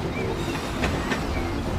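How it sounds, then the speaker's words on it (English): A fast cartoon train rolling along its track, a steady rumbling run with rhythmic clicks of wheels, fairly loud and close, with no voices over it. "Hey Ashley, look how fast this train can go."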